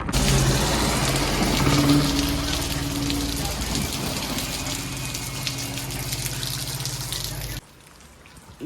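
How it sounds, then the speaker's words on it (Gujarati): Heavy rain falls in a steady, loud wash that continues for several seconds and then cuts off abruptly near the end. "ગાઈઝ વરસાદ બહુ આવે છે"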